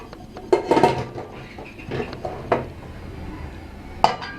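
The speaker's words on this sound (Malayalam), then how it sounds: "ശേഷം കുക്കർ അടച്ച് വേവിക്കുക." A pressure cooker lid is fitted and closed in a home kitchen while making ash gourd curd curry, giving a few sharp metallic clanks and clinks of pot and lid, close and fairly loud between quieter pauses, with no talking.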